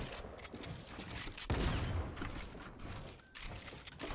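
Dense bursts of gunfire in the video game Fortnite crackle almost continuously, with a heavier blast in the middle, over a busy, noisy background.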